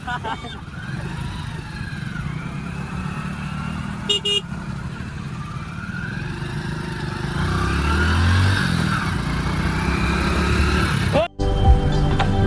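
A motorcycle rides along a road in Rajasthan toward Ranuja temple, its engine and road rumble steady and close, growing louder toward the end, with brief horn toots and some talk.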